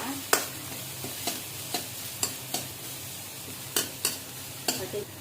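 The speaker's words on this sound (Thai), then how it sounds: "กระเทียมของเราจะตำไว้แล้วนะคะ เราจะลงเจียวเลยค่ะ ก็เจียวไฟกลางๆค่ะ" Crushed garlic frying in oil over medium heat, a steady sizzle under repeated sharp scrapes and taps of a utensil stirring against the pan, irregular and close by.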